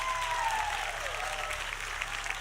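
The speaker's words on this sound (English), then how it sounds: "Please give a big round of applause." An audience at a Rainbow Six Siege Operation Para Bellum reveal applauds continuously, a dense, fairly distant patter of clapping sustained throughout.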